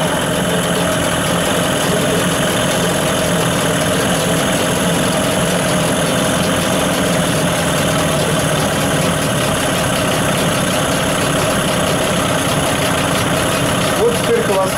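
A CG Marine 9.9 hp electric-start outboard boat motor idles in a steady, continuous drone with a constant vibrating hum, loud and near throughout.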